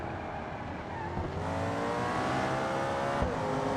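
A GR GT sports car in BeamNG.drive roars loud and close as it accelerates hard, its engine pitch climbing through quick, abrupt gear shifts with a continuous throaty drone.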